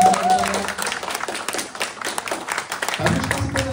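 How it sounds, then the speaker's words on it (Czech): Clapping at a Czech film premiere, a lively burst of audience applause with a voice briefly heard over it at the start and end. "pojďte jí prosím vás zatleskat"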